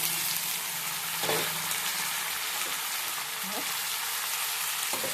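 Ivy gourd (tindora) frying in a pan: a steady, soft sizzle with a few scraping stirs, moderately close, and no voices over it.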